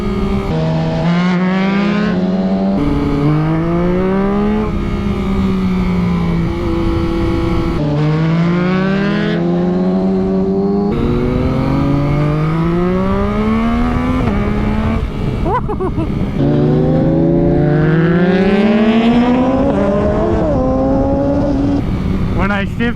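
Yamaha MT-09 and Yamaha R6 motorcycles riding through a neighborhood, engines loud and near, repeatedly revving up through the gears with rising pitch and dropping at each shift.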